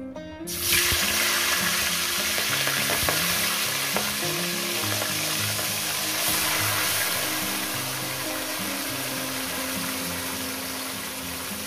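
Fish pieces hit hot oil and set off a sudden loud sizzle. The frying then hisses on steadily and close by, with faint clatter from the pan underneath.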